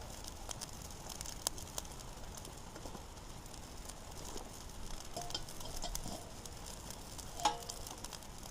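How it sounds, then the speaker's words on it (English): Eggs fry in a pan over a camp stove, a faint steady sizzle and crackle running the whole time, with a few light clinks and a sharper pop near the end. "I'm going to throw my eggs on, let them cook."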